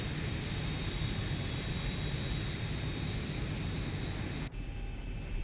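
Boeing 737NG jet engines in the X-Plane flight simulator, a steady whining engine drone with a constant high tone that abruptly shifts and drops near the end.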